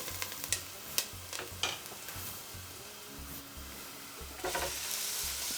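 Onions sizzle in a hot pan, a quiet steady hiss with scattered crackles and small pops and no one speaking.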